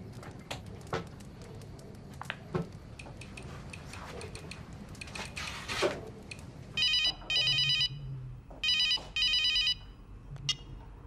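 A telephone rings in several bright electronic bursts after a stretch of quiet indoor shuffling and small knocks, the rings loud and close with short gaps between them.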